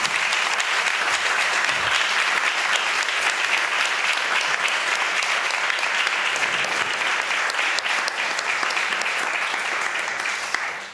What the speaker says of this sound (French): Je pense qu'on peut remercier en applaudissant.